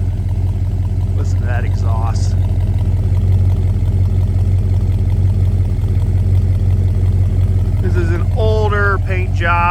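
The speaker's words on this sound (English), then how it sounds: "Listen to that exhaust." Exhaust of a 1969 Dodge Coronet R/T 440 idling nearby, a steady deep, even burble throughout, with someone talking briefly over it near the start and again near the end.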